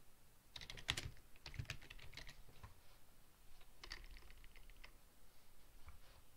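Typing on a computer keyboard, faint, uneven bursts of light key clicks close by with brief pauses between strokes and no talking.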